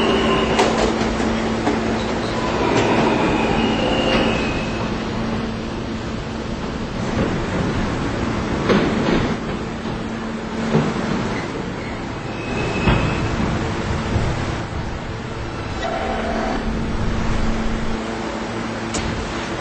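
A subway train in the video game PTA Callaghan rumbles and rattles steadily along the tracks, with clanks and a few brief squeals rising over the continuous roar.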